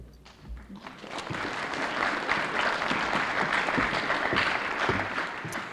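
An audience at a high school hall of fame induction ceremony breaks into applause, building quickly after a quiet start into steady, full clapping that holds for several seconds, close and fairly loud.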